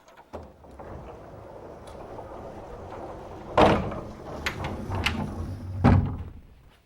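A household door is pushed shut with a sharp thud, followed by a second knock or bump a couple of seconds later, close by in a quiet room with faint movement between.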